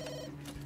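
A telephone ringing in The Sims 3, a short electronic ring tone heard in brief pulses over steady game background sound.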